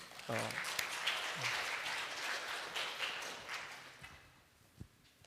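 Church congregation applauding during a Sunday worship service, a faint, diffuse patter of clapping that swells near the start and fades away, with a voice heard briefly over it.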